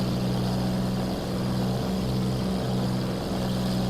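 Hawker Hurricane fighter's piston engine and propeller droning steadily in a climb, a loud continuous in-flight roar with a low tonal hum that holds even throughout.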